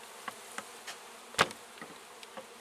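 Honey bees buzz around an opened hive during a large hive cut-out, heard as faint scattered buzzes of individual bees flying close past the microphone, with one louder pass near the middle and no talking.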